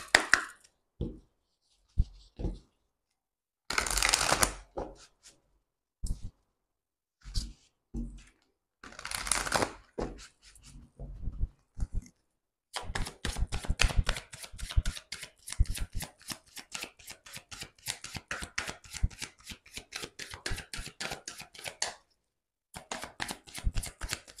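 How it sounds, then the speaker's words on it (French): Archangel Raphael oracle cards being shuffled by hand, a steady run of quick riffling card flicks and taps, close and clear with short pauses between bursts, no talking. "on prend une carte de l'archange Raphaël."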